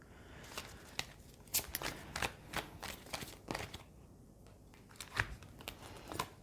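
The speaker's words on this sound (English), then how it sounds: "I just pulled another card" Tarot cards are pulled and handled up close: quiet, crisp snaps and papery flicks in irregular clusters, faint and alone, with a few sharper taps of cards being laid down.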